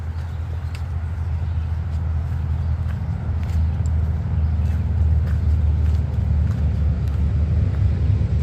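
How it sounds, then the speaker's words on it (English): Steady low rumble of highway traffic carrying to a wooded trail beside a slow stream, a continuous distant drone of passing cars with no talk. "I can hear the cars from the highway,"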